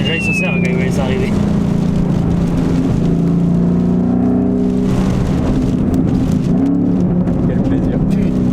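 A Ford Mustang Boss 302 V8 with side exhaust drones loudly and continuously from inside the car, a deep steady rumble with rising and falling engine tones throughout.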